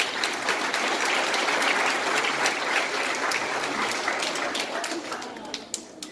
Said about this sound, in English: Would the rest of us give our new Australians a big round of applause?